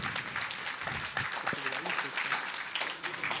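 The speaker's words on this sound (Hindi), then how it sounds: "तो एक बार आप दिल से तालियां बजाइए।" Applause from the audience at a yoga program in Ludhiana: dense, steady clapping from a crowd, with some voices mixed in.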